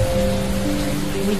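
Rain falling steadily on surfaces, a close, even patter with a faint low tonal hum running underneath.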